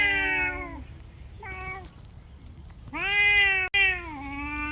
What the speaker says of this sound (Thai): อุ้ยน้องแมว เดี๋ยวเดี๋ยวเดี๋ยวถ่ายน้องแมวก่อน